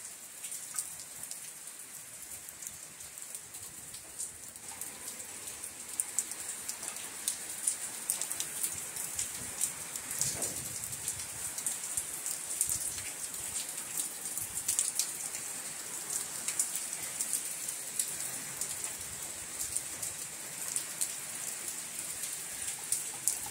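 Steady rain keeps falling on a grey monsoon day, a soft continuous patter and hiss of drops heard from a distance for a long stretch, with occasional nearer drips and no voices.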